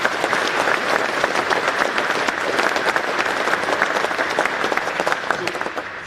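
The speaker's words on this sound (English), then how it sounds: "Please give them a round of applause for what they put on." A crowd at a colonel's military promotion ceremony applauds, with dense, crisp clapping sustained throughout and tapering slightly at the finish.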